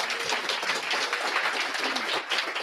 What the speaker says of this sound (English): it deserves yet another applause